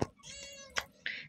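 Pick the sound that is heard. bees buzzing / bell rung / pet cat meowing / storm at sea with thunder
pet cat meowing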